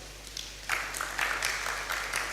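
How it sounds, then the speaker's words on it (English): Audience at a leadership and management training event breaking into applause, a soft, steady patter of clapping that starts partway through and continues briefly at a moderate distance. "Please clap for him."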